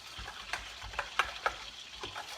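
Chocolate gravy sauce is mixed in a pan with a potato masher, giving a few soft, irregular scraping and tapping strokes over a faint sizzle, quiet and close.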